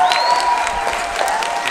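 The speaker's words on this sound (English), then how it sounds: "You can applaud a little louder for our principal" Steady, full audience applause at a school winter concert, continuous clapping from a crowd with a faint ringing tone over it.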